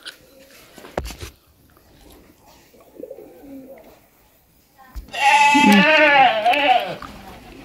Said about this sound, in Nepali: बाख्राहरू पुरा खतरासँगले कराउँदैछ